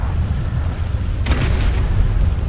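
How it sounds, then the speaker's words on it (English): A grenade blast in GTA 5 gameplay: a single muffled boom bursts out over a steady low rumble, followed by a brief crackling tail, with no talking. "I'm about to throw some nades."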